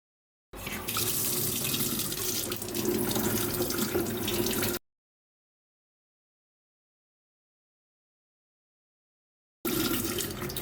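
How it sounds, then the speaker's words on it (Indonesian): Guava leaf shoots are washed under a running tap. A loud, close rush of water splashes steadily for several seconds, stops for a long silent gap, then gushes again briefly. "Pucuk daun jambunya kita cuci dulu sebelum kita rebus guys"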